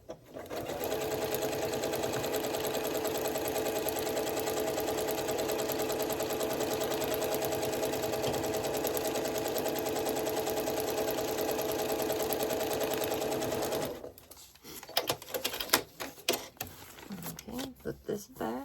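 A sewing machine stitching a foundation paper pieced quilt block, running in one long, close, steady mechanical whir before stopping, followed by rustling and handling noises.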